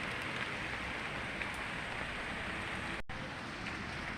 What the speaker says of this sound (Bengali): এই যে বৃষ্টির জলটা পড়ছে